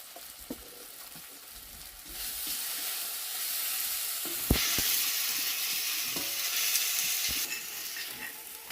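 Chili powder and spices fry in a pan for a vegetable shukto, a soft sizzle that swells into a steady hiss with occasional stirring scrapes and clinks, moderately quiet and close.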